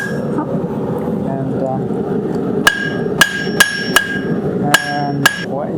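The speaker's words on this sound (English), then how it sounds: "Try to flip the hammer over and hit it with the round face." A blacksmith strikes a hot steel hook with the round face of a hammer, seven sharp ringing metallic blows at an uneven pace, preceded by a low background hum.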